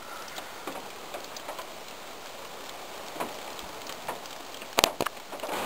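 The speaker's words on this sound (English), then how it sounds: "Rain and hail. Just out of nowhere when I was eating my breakfast." Rain and hail in a sudden September storm: a steady dense hiss of falling rain with scattered sharp ticks of hail striking surfaces, heard from indoors at moderate volume, with a few louder cracks near the end.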